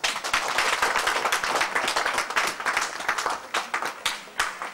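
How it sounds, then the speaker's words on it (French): Parents at a community music event in Mangamba, Cameroon, burst into sustained applause, a dense crowd of many hands clapping steadily and loudly throughout, with no voices standing out. "chers parents, on peut applaudir"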